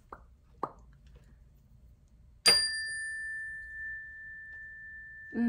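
A single bell struck once in a quiet room, its clear ringing tone sustaining and slowly fading for several seconds, followed by a faint sound at the end.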